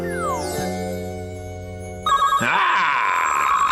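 In a cartoon quiz-show scene, a telephone starts ringing partway through, a loud, warbling electronic trill that takes over from the softer tones before it.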